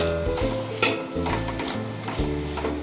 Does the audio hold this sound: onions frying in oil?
yes